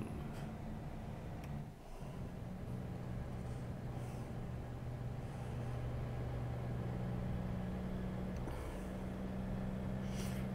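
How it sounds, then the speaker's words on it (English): Volvo truck engine in American Truck Simulator, a steady low drone with a sustained hum that holds evenly throughout, briefly dipping near the start, with no talk over it. "Truck does have a good sound to it, inside and out."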